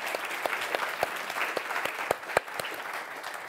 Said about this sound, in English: I would like to give applause to our panelists for it.